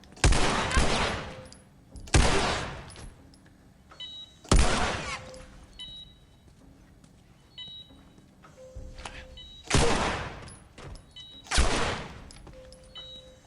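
Heavy gunfire from The Last of Us video game, with about five loud broadband bursts of rapid shots separated by quieter gaps with faint beeping tones, and no talking.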